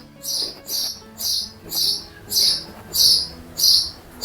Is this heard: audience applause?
no